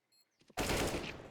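After a brief faint tone and a couple of soft clicks, a loud burst of automatic gunfire erupts in a Counter-Strike match at the 2023 Paris Major and continues to the end.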